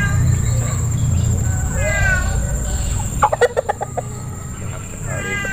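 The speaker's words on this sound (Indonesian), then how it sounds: "Ini ayamnya" Short bursts of clucking from a crossbred Bangkok chicken, with a rooster-like call, over a steady low rumble and background hum.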